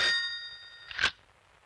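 A telephone bell rings in an old 1987 Hindi film scene: a bright ring that fades out, then a short second burst of ringing, with no voices.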